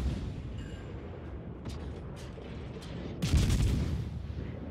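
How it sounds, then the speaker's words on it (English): Naval video game gunfire from a Z-46 destroyer shooting at the Bismarck, a few faint sharp shots over a low rumbling sea backdrop, ending in a louder, longer blast. "I'm launching my torpedoes to where I think he will be going and also start shooting with my guns."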